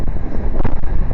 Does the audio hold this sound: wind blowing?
yes